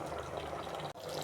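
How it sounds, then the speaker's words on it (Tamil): Chicken gravy simmers in a pot with a soft, continuous bubbling and watery hiss, broken by one brief dip, heard close up with no talking. "சிக்கன் குழம்பு நல்லா தளன்னு கொதிக்குது."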